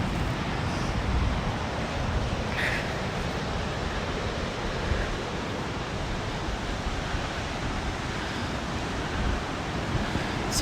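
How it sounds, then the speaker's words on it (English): Ocean waves break on a sandy beach at sunrise as a constant, dense roar of surf. The wash stays steady and full throughout, with no voices. "All those waves breaking over there"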